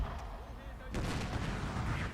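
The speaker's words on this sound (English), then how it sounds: "Keep up the artillery bombardment of the enemy cannons." Artillery bombardment in the video game Fall of the Samurai, with cannons firing in a battle; a deep boom and crackling gunfire roll out at mid distance, a heavier blast landing about a second in, while someone talks over it.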